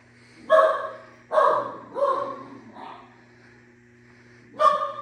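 Puppies barking indoors near a model train layout, five sharp, close barks in a loose sequence with short pauses between them.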